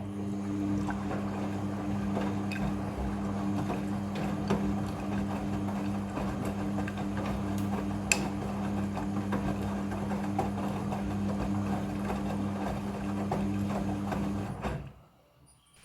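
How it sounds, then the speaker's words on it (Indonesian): A Midea front-loading washing machine hums steadily through its rinse cycle with a constant motor drone and a faint mechanical whir. The sound carries on evenly and then stops abruptly near the end. "Setelah proses pemerasan selesai, masuk ke proses pembilasan air yang kedua."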